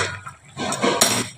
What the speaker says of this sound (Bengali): এই যে ঢাকাটা নামিয়ে দিচ্ছি